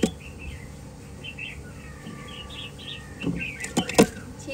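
Caged songbirds offered for sale chirp in short bright phrases over a quiet background, with some clattering and louder sounds near the end.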